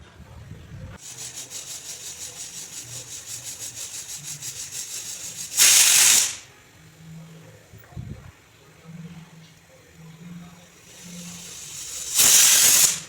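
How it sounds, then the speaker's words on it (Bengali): Pressure cooker with oil and prawns for a Bengali mustard prawn dish releasing two loud bursts of hissing steam whistle, each lasting under a second, over a steady background hiss and faint low kitchen sounds. "তারপর দেখুন এই তেলটা আমি প্রেসার কুকারে ঢেলে দিচ্ছি। তারপর আমি এটাকে 2টো সিটি দিয়ে নেব।"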